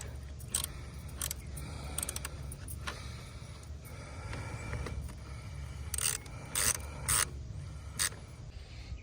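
Ratchet wrench tightening the battery bracket nuts on a second-generation Mazda 3 after a battery install: a steady low hum with scattered sharp clicks and short bursts of ratcheting, strongest near the end.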